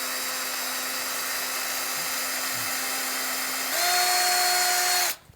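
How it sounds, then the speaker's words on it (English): A power drill whines steadily and loudly while building a plant germination station, rising in pitch partway through before cutting off abruptly near the end. "Now we gotta put the big drill bits in"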